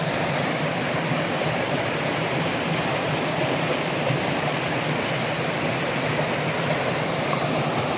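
The Druise river waterfall in the Vercors roars as a steady, dense rush of falling water, loud and continuous with no pauses and no voices.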